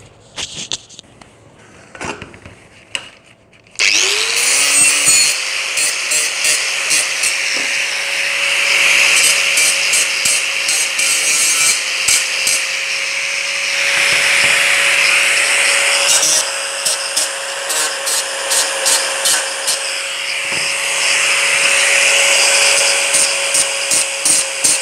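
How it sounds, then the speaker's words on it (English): An angle grinder or file works the ends of steel chassis tubes for a Ford GT40 replica, starting after a few quiet knocks and then running as a loud, continuous abrasive whine with intermittent scraping bursts. "you've got to just brush them off with a file or an angle grinder"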